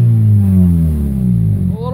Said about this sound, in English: Rev it some.